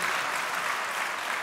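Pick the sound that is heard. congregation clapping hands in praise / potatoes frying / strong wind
congregation clapping hands in praise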